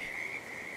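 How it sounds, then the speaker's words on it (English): Frog croaking in the video game Hitman 2, a sustained whistly croak held steadily and clearly for under a second, close and alone without talk. "Okay, that's a frog."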